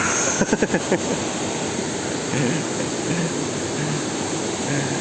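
Steady broadband rushing of falling water fills the scene, with a few faint knocks at the start and soft murmurs faintly audible over the roar.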